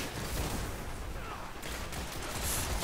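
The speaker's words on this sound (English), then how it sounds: "Whoever, with two grenades, one from each team. Blew us both up, man." Dense, noisy explosions and rapid gunfire from grenades and weapons in the video game Destiny form a continuous loud roar of combat.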